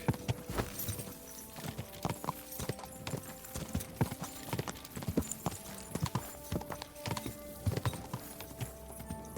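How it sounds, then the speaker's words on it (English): Horse hooves clip-clop steadily along a road in Kingdom Come: Deliverance 2, a dense rhythmic run of close, clear hoof strikes lasting throughout, with a faint whinny and game ambience in the background. "The horse is not suitable for this road?"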